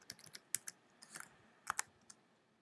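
A password is typed on a computer keyboard during a Mac Dock settings change, a quiet, close series of irregular key clicks with short pauses, alone without voices.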